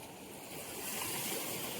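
Steady broadband roar of sea waves surging onto a shore at high tide, a continuous wash that swells slightly louder partway through, with no voices.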